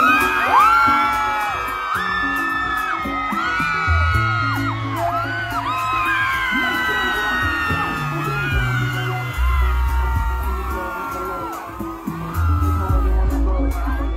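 Crowd at a concert in Botswana cheering, whooping and yelling steadily throughout, loud and dense, with music playing beneath the shouts.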